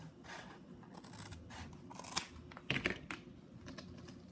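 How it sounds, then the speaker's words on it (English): Fabric scissors snipping through tulle, a few crisp cuts close up, with faint rustling and no talking. "So lifting the tulle away from the board, I'm just going to cut down one end."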